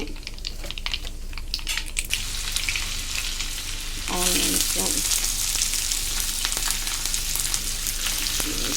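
Mustard seeds, cumin and dried red chillies hit hot oil and burst into a bright, steady sizzle with crackling pops, following a quieter stretch of clicking and stirring at the start.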